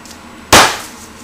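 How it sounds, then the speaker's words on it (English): Meat hammer whacking garlic cloves during fajita prep, a single sharp, loud thud-and-clack impact that decays quickly, alone against faint room quiet. "It's gonna splatter everywhere when I whoop on it with my meat hammer."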